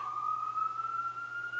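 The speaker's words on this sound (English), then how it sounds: "More sirens." A single emergency siren wails steadily outside, a sustained high tone passing at moderate distance with a low hum underneath and no talking.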